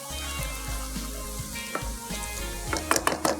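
Black pepper sizzles in hot oil for a masala ginger chops dish, a steady crackle with a few brighter pops and light utensil clinks near the end.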